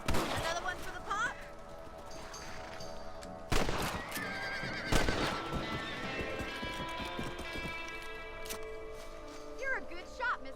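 Horses in the Western game Red Dead Redemption clip-clop at a steady trot with several loud whinnies and neighs over game music, while voices talk throughout.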